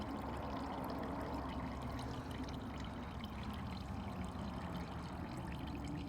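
Old gasoline trickles in a steady, faint stream from the bottom bolt of a carburetor on a neglected Vanguard 9HP tractor. The liquid sound is continuous and even, with no talk.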